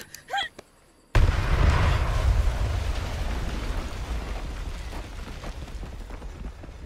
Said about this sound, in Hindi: इन्होंने पूरा बिल्डिंग उड़ा दिया